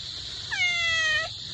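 A pet cat named Ming gives one clear, drawn-out meow, close and distinct, rising then falling over a quiet room background.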